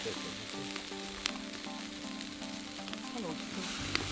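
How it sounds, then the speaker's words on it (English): Pork neck steaks sizzle over a hot wood fire in a soft, steady frying hiss, with a couple of faint crackles and pops from the flames. "We're going on first with the pork shoulder or pork neck steaks, so the less fatty of the two, whilst the fire's really hot."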